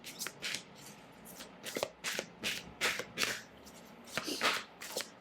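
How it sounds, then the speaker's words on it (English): Tarot cards are shuffled by hand in a quiet room, a series of soft, crisp riffling bursts repeating in an uneven rhythm, close and gentle. "Let me draw another card for you."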